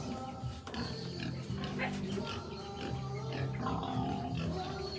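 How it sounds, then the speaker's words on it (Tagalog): Pigs grunt and oink repeatedly in a noisy pen, the animal sounds close and overlapping amid a steady background din. "may baboy sila"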